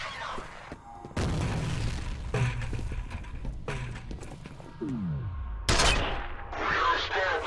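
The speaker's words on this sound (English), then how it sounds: "That's a grenade." Gunfire and a grenade explosion in the video game F.E.A.R., with sharp shots and several heavy booming blasts in close succession, the loudest burst near the end.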